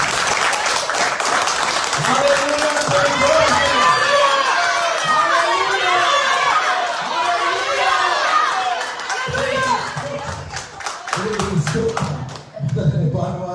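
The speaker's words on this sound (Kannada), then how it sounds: "ಜೋರಾಗಿ ದೇವರಿಗೆ ಚಪ್ಪಾಳೆ ತಟ್ಟಾರೆ" A church congregation claps loudly on a Sunday, with dense applause and crowd noise filling the room. Voices and cheers rise under the clapping, which thins out into scattered bursts toward the end.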